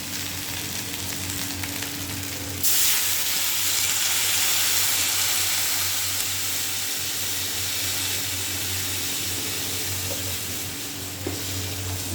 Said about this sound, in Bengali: এই যে মশলাটা ভাজা ভাজা হয়ে গেছে, এবার জল দিয়ে দেবো।